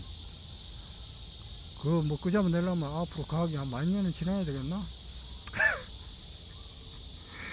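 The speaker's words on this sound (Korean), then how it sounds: "이 지금 매미 소리가 들리잖아요" Cicadas singing outdoors on a summer day, a steady, shrill, high-pitched buzzing drone that runs unbroken through the whole stretch while someone speaks over the middle part.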